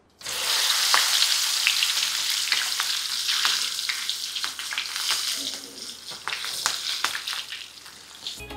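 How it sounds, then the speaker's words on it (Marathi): Halved masala mirchi bhaji, a crispy street-food snack, deep-fry in hot oil on high flame with a loud, bubbling, crackling sizzle that starts suddenly and runs throughout with scattered pops, close and without talk. "याला हाय फ्लेमवर तळायचं लगेच"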